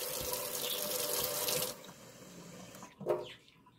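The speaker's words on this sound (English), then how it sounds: "You can fill it up to the top if you want." Tap water pours into a glass flower globe, a loud steady rush that stops partway through, followed by a short splash and gurgle as the flow ends.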